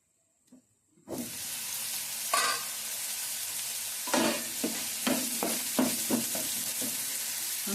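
Chili powder fries and is stirred into a bitter gourd tamarind curry in a pan, with a sudden loud sizzle and steady hiss broken by repeated scraping strokes of a spoon.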